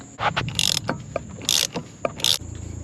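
Ratcheting and clicking of tools working a driveshaft bolt loose under an S550 Mustang, in repeated short bursts of metallic clatter with bright hissy spikes between brief pauses, close and fairly loud.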